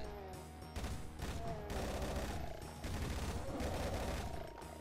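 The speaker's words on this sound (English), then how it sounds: "Heavy machine gun." Heavy machine gun in a Doom mod firing in sustained loud bursts with brief pauses, dense overlapping shots and game sounds mixed in.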